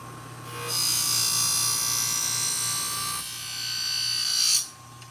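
Motorized honing wheel spinning against an upholstery scissors blade, a steady high buzzing whine that swells, holds for several seconds, then cuts off abruptly.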